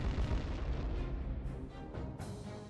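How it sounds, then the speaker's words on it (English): An artillery strike in the Command: Modern Air Naval Operations video game sounds as loud, rolling explosive booms with scattered sharp bursts that fade slightly toward the end, with no voices. "I'm actually gonna launch an artillery strike on some of these"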